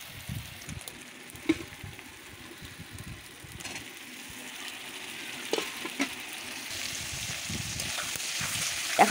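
Shrimp frying in a pan with Malabar spinach stems, potatoes, garlic paste and red chilli, stirred steadily; a soft continuous sizzle with occasional scraping clicks of the spoon, growing slightly louder toward the end.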